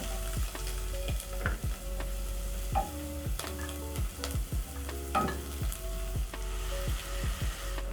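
Tomatoes frying in a pot for a Kenyan omena dish, with a steady close sizzle and frequent spoon taps and scrapes against the pot, some ringing metallic notes, no voices.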